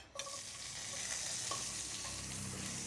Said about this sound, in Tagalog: Pag magpirito po tayo ng mga luya, siguraduhin natin mainit ang mantika